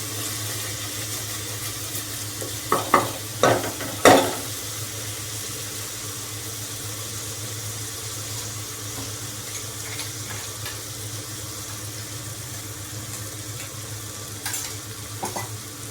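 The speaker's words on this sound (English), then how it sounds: "Saute till it turns little brown" Soya chunks sauté in a frying pan under a constant close sizzle, with a few scraping stirs early on, then steady frying with faint ticks and no talking.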